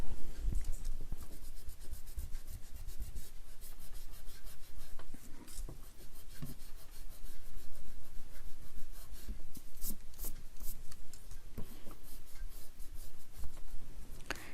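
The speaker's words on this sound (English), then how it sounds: "I'm going to erase this pencil" A pencil eraser rubs back and forth on paper, a steady close scrubbing that continues without a break, with rasping strokes in a quick irregular rhythm.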